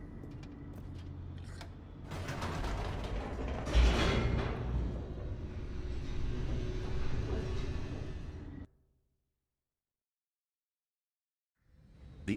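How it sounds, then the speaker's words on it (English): Elevator descending in the video game The Stanley Parable 2, a steady mechanical rumble with creaks and a heavy clunk partway, running continuously for about nine seconds, then cutting to silence before a faint return. "The elevator raced downward, plummeting towards an unknown fate."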